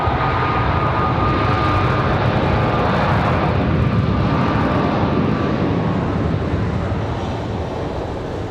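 An American Airlines Boeing 737 MAX 8 at Raleigh-Durham International roars loudly and continuously at night, a broad steady jet rumble with a faint whine that eases slightly toward the end, with no talking.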